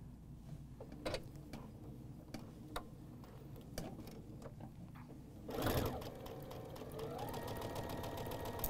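Sewing machine stitching a mitered quilt corner, starting with scattered ticks and clicks of handling, then a short burst of rapid needle stitching followed by a steady mechanical whir, close and fairly quiet.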